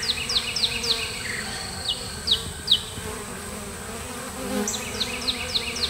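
Honeybees buzzing around a hive entrance after a swarm trap catch, a steady close insect drone with repeated brief whining fly-bys passing near, heard alone with no talk.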